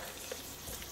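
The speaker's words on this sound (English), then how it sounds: "Can you hear that? That's the sound that we want to hear," Onions sizzle in butter and olive oil in a pan for soup, a steady broadband frying hiss with a few soft stirring crackles, close and fairly quiet, no voices.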